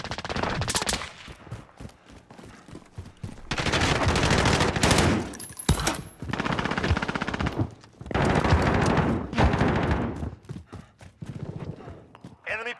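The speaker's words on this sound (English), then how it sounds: "Got a sentry gun on station." Rapid video game sentry gun fire in repeated bursts, loud and close, alternating with pauses, while voices talk over the action.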